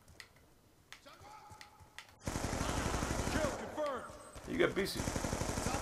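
Gunfire in the video game Call of Duty Black Ops 2: a few faint shots, then loud rapid automatic fire that rattles on continuously for several seconds while a player speaks briefly.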